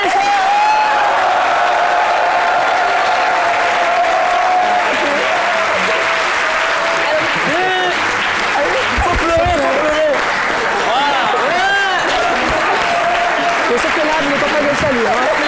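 A crowd applauds a crowned beauty queen at a pageant, loud sustained clapping with cheers and whoops, while people talk over the din.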